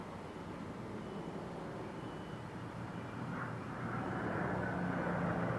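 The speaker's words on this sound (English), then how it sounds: "this rare formation of classic and current United States Air Force aircraft" Formation of classic and current US Air Force aircraft, a heritage flight at an air race, passing overhead as a steady broadband roar that swells louder toward the end, with no talk.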